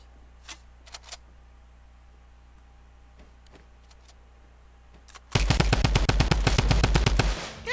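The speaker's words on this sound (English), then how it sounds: "Let's go shoot back." Rapid automatic gunfire from a Fortnite match bursts in loud and steady for the last couple of seconds, preceded by a few faint, scattered shots in the distance.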